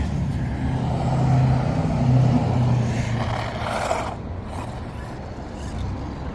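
An HPI Blackzon Slyder MT RC truck drives across a slick outdoor track, its small electric motor whining and churning steadily, swelling louder near the middle and then easing back, close to the listener and with no speech.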